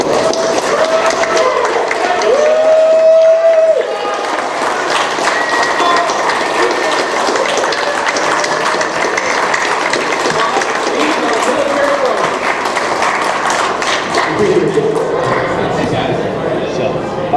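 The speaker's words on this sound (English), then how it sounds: "if we could get a round of applause for him, that would be great" A convention panel audience claps in a sustained round of applause, a busy, clattering texture that runs on for many seconds, with voices talking beneath it and a brief tone near the start.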